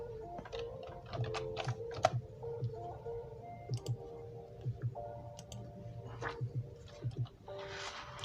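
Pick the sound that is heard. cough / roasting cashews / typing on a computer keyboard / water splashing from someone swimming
typing on a computer keyboard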